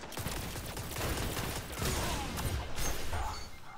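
Rapid bursts of gunfire crackle densely in a Destiny Crucible match, a continuous loud volley of shots with mechanical clatter and no speech.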